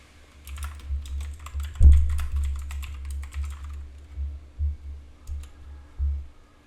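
Typing on a computer keyboard: quick irregular bursts of soft key clicks close by, pausing briefly and resuming, with a low hum underneath.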